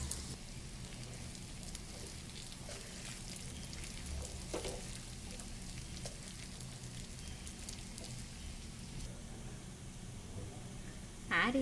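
Sabudana khichdi with potato is stirred in a pan, giving a soft, even crackle that resembles light rain, with faint utensil scrapes throughout and a brief louder clatter at the end. The whole is quiet and close.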